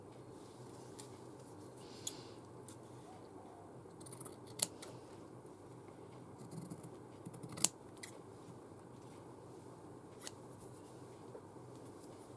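Scissors snipping through paper in a quiet crafting session, a few sharp isolated cuts spaced out over a steady low background.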